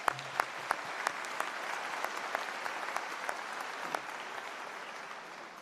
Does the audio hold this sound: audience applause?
yes